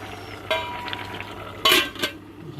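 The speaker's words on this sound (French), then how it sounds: "je vais couvrir ma petite marmite" A lid goes onto a small cooking pot of peas and Jerusalem artichokes, two sharp clanks about half a second apart, then a lighter knock, close by over a soft background hiss.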